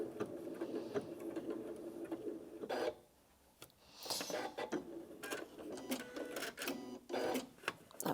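A Janome Atelier 9 sewing and embroidery machine stitches quilting in rapid whirring runs, pausing briefly and then restarting with a few sharp clicks, close and clear, with no talk.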